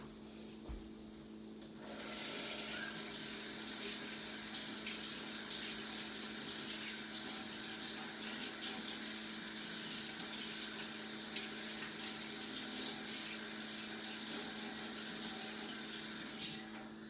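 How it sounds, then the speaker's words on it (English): Tap water runs steadily into a sink for hand washing after a short quiet start, a continuous close gushing stream with no talking. "I think I need to wash the stickiness off my hands."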